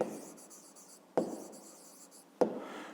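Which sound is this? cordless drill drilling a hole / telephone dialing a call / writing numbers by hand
writing numbers by hand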